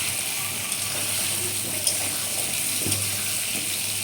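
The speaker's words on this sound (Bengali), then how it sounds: "তো দেখো এখানেই আমি একটু ভেজে নিচ্ছি" Potatoes frying in a pan for a fish curry: a steady, even hiss of hot oil with a few faint clicks and scrapes, close and moderately loud.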